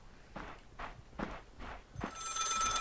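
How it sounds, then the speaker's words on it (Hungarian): An old telephone rings in the horror game Maid of Sker, four evenly spaced bell bursts at moderate loudness, then a sustained brighter ring. "A csajsz megint telefonálgat."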